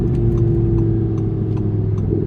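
A 610 hp Audi R8 V10 Plus engine pulls hard under acceleration with a loud, close, sustained drone and strong low tones, continuous for the whole stretch.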